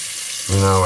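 Hot water runs from a tap onto a razor blade during shaving, starting suddenly halfway through as a steady close gush that lasts to the end.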